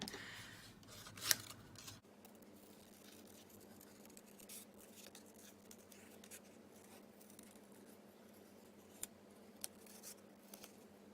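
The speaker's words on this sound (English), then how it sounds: "I'm going to fussy cut around the piece and the heart here." Scissors snip in a steady series of soft, close cuts as a paper piece is fussy cut around its outline and a heart shape for a card project, with a few sharper clicks near the end.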